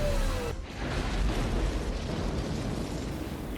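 A giant alien mothership blows apart in a film after being struck by a nuclear weapon. A broad, deep explosive boom rolls out and then fades into a long, low rumbling wash.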